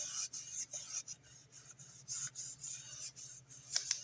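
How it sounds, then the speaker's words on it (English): A polymer clay geometric pendant being burnished, with close, quiet, rhythmic rubbing strokes repeating in short passes. "We're going to need to burnish that a little bit too, because I see it's still separated in a couple of places."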